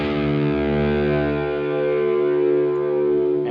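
A sustained, distorted electric guitar chord played through a reverb plug-in rings out with a washy reverb tail, steady and loud with no talking.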